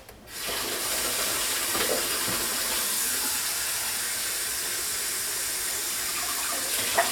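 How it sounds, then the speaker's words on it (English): Tap water runs steadily into a measuring cup in a home kitchen, a continuous close hiss and splash that starts abruptly and holds level throughout. "So let me get 2 cups of water real quick."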